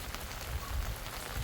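Light morning drizzle falls, a soft, steady patter of fine drops on surfaces, close and quiet, with no voices.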